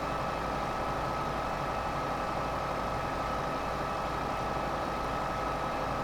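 A tractor engine in Farming Simulator 15 runs at a steady drone for the whole stretch, with no talking over it.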